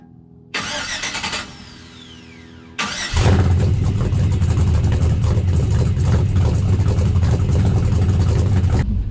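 An engine cranks briefly, stops, then starts and settles into a loud, steady rumbling idle, up close.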